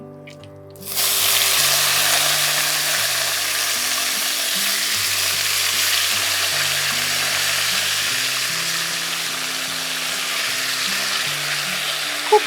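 Pumpkin leaves dropped into a hot pan with small shrimp for a Bengali chorchori burst into a loud, close, steady sizzle that holds for several seconds, with low background music underneath.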